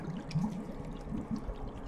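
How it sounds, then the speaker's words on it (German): Water bubbles and gurgles in the horror video game Visage, a short run of soft low glugging pops at moderate level, without talk. "Oh, da blubbert was."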